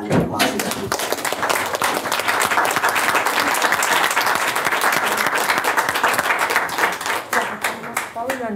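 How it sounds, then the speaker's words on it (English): Audience at a housing discussion event applauds in loud, sustained clapping that swells and holds, then thins toward the end with scattered claps and a voice starting to speak. "I just want to give us all around the applause"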